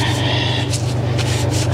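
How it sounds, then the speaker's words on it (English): A rag rubbing cleaning compound off a snow-covered metal roof during a leak repair, heard as a steady close scrubbing swish with a few brighter strokes over a constant low hum. "Clean it with a rag."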